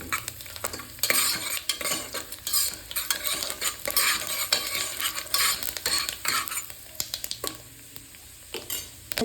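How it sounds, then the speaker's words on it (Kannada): Whole spices sizzling in oil in a pan for tomato bath, with busy frying crackle and repeated stirring scrapes and utensil clinks throughout, close and steady. "ಸ್ವಲ್ಪ ಎಣ್ಣೆನಲ್ಲಿ ಬಾಡಿಸ್ಕೊಳ್ಳಿ"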